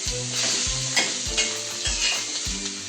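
Whole spices (coriander seeds, sesame, cloves, green cardamom, cinnamon) dry-roasting for a black masala mutton curry, with steady sizzling and crackle broken by repeated scraping stirs of a spoon against the pan.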